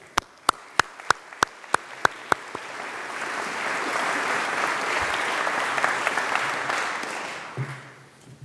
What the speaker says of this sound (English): Please join me in welcoming Dr. Ghorashi.